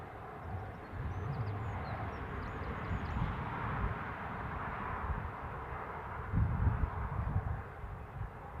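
A Court Line Lockheed TriStar airliner at Newcastle International Airport gives a steady, broad jet-engine roar that holds loud and even throughout, with a brief low rumble swelling near the end.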